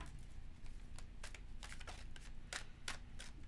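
Tarot cards riffled and shuffled in quick crisp bursts, several short papery flutters close by against a low steady hum.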